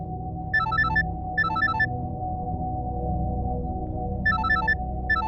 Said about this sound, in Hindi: माँ, रेनू का फोन।